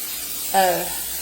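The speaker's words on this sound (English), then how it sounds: "I'm going to spray this" Cooking spray hissing onto a baking pan in one short burst of about a third of a second, close and fairly loud over a quiet room.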